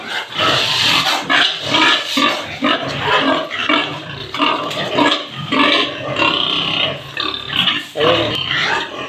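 Pigs on a farm grunt and squeal almost without pause, a busy close-up chorus of several animals that overlaps and rises and falls over the whole stretch.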